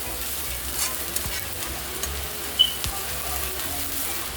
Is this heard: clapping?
no